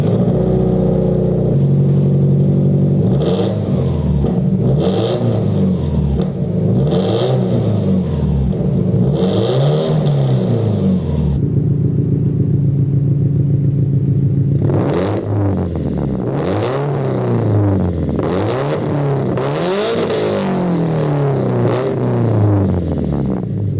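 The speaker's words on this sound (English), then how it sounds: "Now this engine with the exhaust, you can hear the dry racing sound of the titanium exhaust." A Subaru EJ20 engine fitted with a Tomei titanium exhaust revs loudly and repeatedly, several sharp rising blips in the first half, a brief lull, then a faster cluster of throttle blips.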